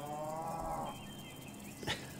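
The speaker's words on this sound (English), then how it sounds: "Got the cows." Cows moo in the video game Little Misfortune: one long, drawn-out moo is followed by a shorter call, both clear and fairly close over a soft background bed, with no talk.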